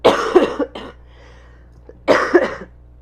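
A woman coughs in two separate bursts, each with two or three quick harsh coughs, close to the microphone, with a quiet pause between the bursts.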